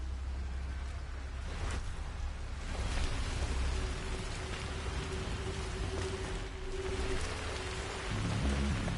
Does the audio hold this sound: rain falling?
yes